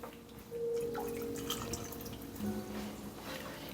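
Water drips and trickles from a freshly rinsed Origami ceramic coffee dripper, a close, steady wet patter with a few brighter drops lasting a few seconds.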